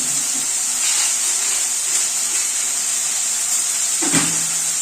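Onions frying with coriander leaves in a pan for a village-style bitter gourd dish, giving a continuous loud sizzling hiss with a small clatter near the end.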